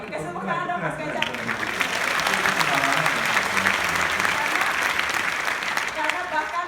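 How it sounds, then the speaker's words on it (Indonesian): A live stage talk-show audience in the Netherlands breaks into sustained applause that swells and holds loud, with a voice speaking over the clapping at the start. "Kasih tepuk tangan dong Mas Ganjar."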